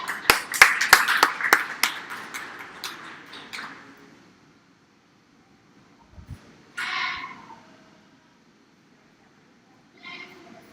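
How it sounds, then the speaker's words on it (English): Applause from the crowd at a county fair goat show for four young exhibitors, a burst of scattered clapping that fades out within a few seconds, followed by quieter hall noises. "let's give all 4 of these young ladies a nice round of applause"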